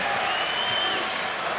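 Basketball crowd cheering in the arena at an Indiana vs Northwestern game, a loud steady roar of applause and shouting with a play-by-play voice running over it.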